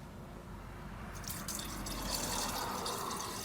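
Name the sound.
pouring new coolant into Ford F150 radiator reservoir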